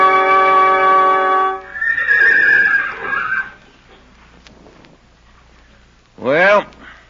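Horse neighing as a sound effect in an old radio western drama: a long tonal whinny rings out, followed by a muffled garbled stretch, a quiet pause, then a short sharp rising-falling neigh near the end.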